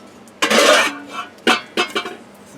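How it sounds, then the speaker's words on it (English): A frying pan and pots handled on a kitchen stove, several loud metallic clanks and scrapes in quick succession, close by with no talking. "Frying pan."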